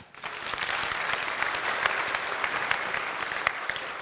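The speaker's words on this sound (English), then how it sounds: "Round of applause." An audience at a kids' program led by Nouman Ali Khan breaks into applause honoring a single parent, dense and steady clapping that holds close and full throughout.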